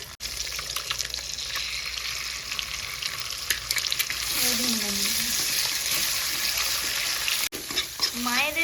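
Two eggs cook in a home kitchen pan, giving a steady sizzle and frying hiss with stirring and scraping, while someone talks over it in brief stretches.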